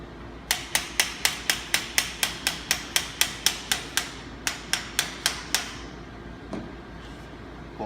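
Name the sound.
hammer tapping a handle assembly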